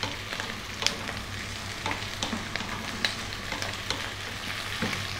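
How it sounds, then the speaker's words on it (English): Chinese pork sausage with tofu and oyster sauce stir frying in a pan on high heat gives a steady close sizzle and crackle, with scattered clacks of a utensil stirring throughout. "stay on this high heat, go for another 2 minutes, again stir frying pretty much all the time here"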